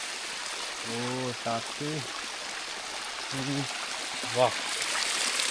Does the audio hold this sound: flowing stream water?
yes